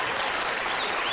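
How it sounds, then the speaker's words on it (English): A television talk-show studio audience applauds for Bob Hope, producing a dense, continuous wash of clapping that holds at a steady, full level throughout. "Maybe we could get the applause meter on Bob."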